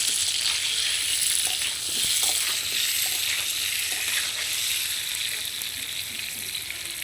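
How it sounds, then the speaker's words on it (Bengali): Pointed gourd (potol) fries in hot oil in a pan, a loud, dense, steady sizzle and crackle heard up close throughout, with occasional faint stirring scrapes. "তো পটলগুলোকেও একইভাবে আমি ভেজে নেব ভালোভাবে।"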